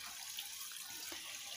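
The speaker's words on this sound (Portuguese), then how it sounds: "Água corrente agora." Running water pours steadily into a juvenile goldfish tank, a constant soft hiss and splash with no breaks and no voices.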